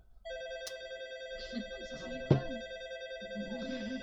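An old-style Tokyo electronic telephone ring from before 1989, a steady warbling tone that repeats continuously, moderately loud, with faint clicks and murmurs underneath.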